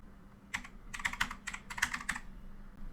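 Keys clatter on a computer keyboard as a word is typed into a Windows 11 search box, a quick burst of about a dozen close, crisp clicks in uneven rhythm over a faint steady hum, then a brief pause.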